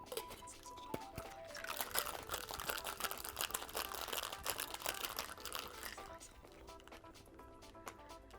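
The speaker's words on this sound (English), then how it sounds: "Now we add ice, shake," A cocktail with pineapple juice shaken with ice in a shaker, producing a continuous dense rattle and clatter of ice for several seconds, fairly close, with a brief voice heard behind.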